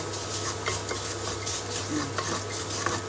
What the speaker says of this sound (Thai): คั่วให้มันหอมค่ะทุกคนคั่วเครื่องให้หอม อบเชยโป้ยกัก